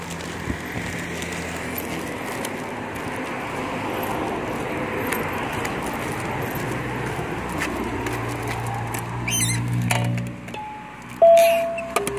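A house doorbell in Taiwan sounds near the end as a couple of clear electronic chime tones, following a long stretch of soft street ambience and scattered clicks.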